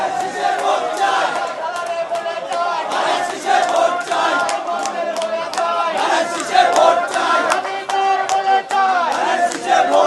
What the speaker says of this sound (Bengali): সেই কর্মীরা কিন্তু ধানের শীষের যে স্লোগান সেই স্লোগানটি দিচ্ছে